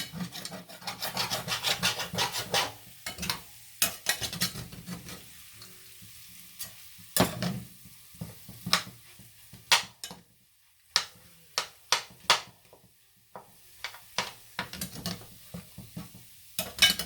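Potatoes being mashed lightly in a pot while smothered, a string of soft, irregular scraping and squishing strokes with short pauses, close and fairly quiet.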